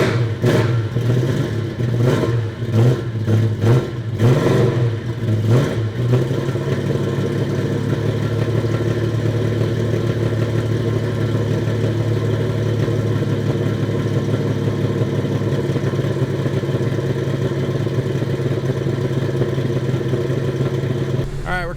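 Car engine warming up at a steady low idle of around 2,000 RPM ahead of a compression test, a loud even drone after a few early rhythmic revs, with someone speaking over it.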